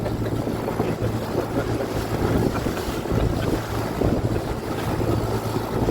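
Motorboat running out at sea, a steady low engine drone under heavy wind buffeting and splashing water, loud and continuous.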